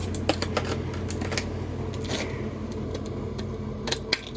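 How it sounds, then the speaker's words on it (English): Scissors snip and crinkle through stiff plastic blister packaging of a Milwaukee M12 battery close by, a series of sharp cuts and rustles with a louder snap near the end. "I'm gonna get some scissors to open this up"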